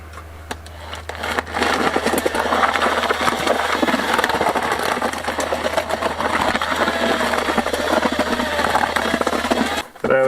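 Mortar being mixed with water added a little at a time during a courtyard renovation of a 150-year-old property, heard as a steady, loud mechanical churning and scraping that runs almost continuously, with a constant low hum underneath.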